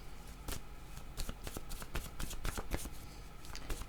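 Oracle cards being shuffled by hand, a run of crisp riffling bursts and soft slaps repeating at close range with no talk over them.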